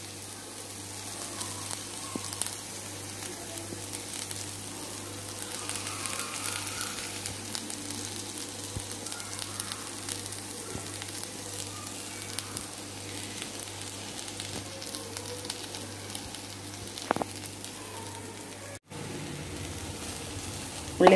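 Onions sautéing in oil in a pan for Kannur style muttayada, giving a steady, soft sizzle with a low hum underneath that runs throughout, briefly broken near the end.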